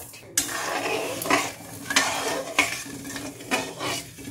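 A spoon clinks and scrapes around a metal pot as sugar is stirred into water to make sugar syrup, with repeated sharp taps against the sides over a soft sizzle.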